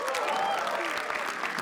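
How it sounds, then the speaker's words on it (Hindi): Steady, dense applause from a comedy roast audience, close and full, sustained evenly for a second and a half without pause. "इनके लिए तालियां प्लीज।"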